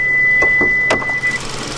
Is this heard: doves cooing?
no